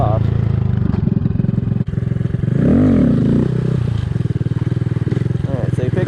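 A motorcycle idles with a steady lumpy thrum, then the engine swells into a brief rev as it is lifted into a wheelie before settling back, close and loud, with someone talking over it.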